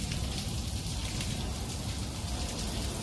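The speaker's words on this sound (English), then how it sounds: "This is the sound of heavy rain moved through parts of New York." Heavy rain pours down across New York, a dense, steady roar of drops on surfaces with no breaks, loud and close throughout.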